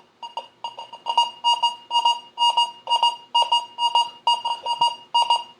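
An XP Deus 2 metal detector sounds over a mercury dime, giving a bright, rapidly pulsing beep-like tone in quick repeated bursts, clear and close, with no talking.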